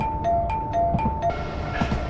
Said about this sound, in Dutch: Er gaat nog steeds ding dong.